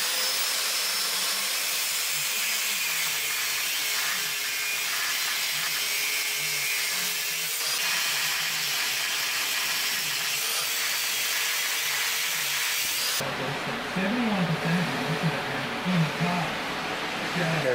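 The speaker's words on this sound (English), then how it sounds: "Six bolts cut." Flywheel bolts clamped in a vise being cut with a power tool, a sustained whining, grinding drone that holds steady, then shifts to a harsher, rougher cutting tone near the end.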